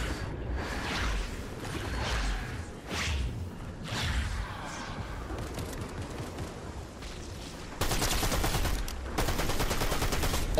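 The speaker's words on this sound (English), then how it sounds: "This SMG is so good." SMG fire in Fortnite Season 2, loud and close, heard as rapid rattling bursts with whooshing sweeps mixed in, and a harder, denser volley near the end.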